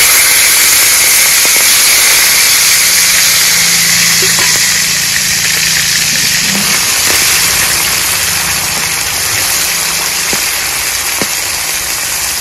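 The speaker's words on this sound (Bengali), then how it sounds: "এবার চিংড়ি মাছটা ফোড়নের উপরে দিয়ে দেব" Shrimp marinated with salt and turmeric frying in hot oil over a radhuni tempering, giving a loud, steady broadband sizzle and hiss throughout with a few faint pops.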